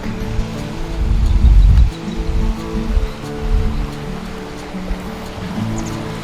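The Abayaoan River flowing with a strong current, a steady rush of water with a continuous churning roar, loudest early on, close by with no talking.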